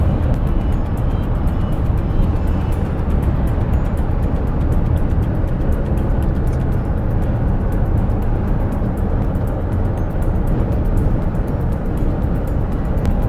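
Steady, loud roar of traffic on a Canadian road where many trucks travel, a continuous rumble of heavy vehicles passing nearby without a break.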